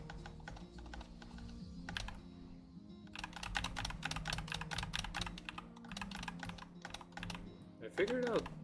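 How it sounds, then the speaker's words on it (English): Computer keyboard clatters with rapid, steady typing bursts close to the mic during a Swordburst 2 gaming session, pausing briefly around the two-second mark before resuming, with game sounds and a short whooshing effect near the end. "I don't know if you can hear my keyboard in the background or next to the mic"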